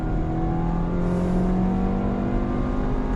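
Engine of a 2019 Audi A4 Avant accelerating in Dynamic mode with its dual-clutch gearbox, a steady close droning hum that rises slightly in pitch, with no talk.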